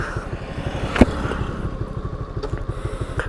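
A Suzuki Fiero motorcycle engine pulls steadily during a top speed run on an open road, a continuous near pulsing drone with a brief sharp knock about a second in.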